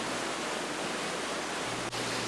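Water at the base of a waterfall in Watkins Glen gorge pounds onto rocks, a steady, even roar of broadband rushing that never lets up.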